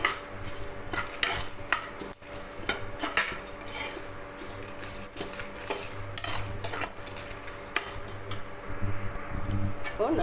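Ingredients for cabbage chutney dry-roast in a pan while a utensil scrapes and stirs in irregular clinks and rasps, close by, over a low steady hum, with someone speaking at times.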